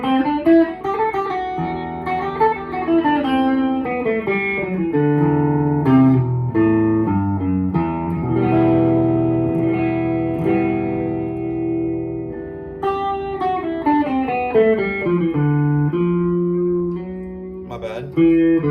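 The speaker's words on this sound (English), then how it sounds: "So the Aeolian mode, which is the minor scale, it'll sound like this." An electric guitar plays the Aeolian (natural minor) scale in first position on E, with single notes moving up and then back down, ringing clearly and a bit reverberant for about nineteen seconds, with no talking.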